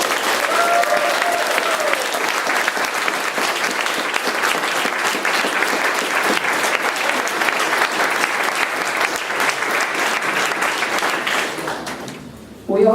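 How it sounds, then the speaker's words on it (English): A conference audience applauds for a world champion: dense, steady clapping that runs loud and unbroken for about twelve seconds, then thins and fades out right at the end. "Please give a hand of applause to Mark Brown"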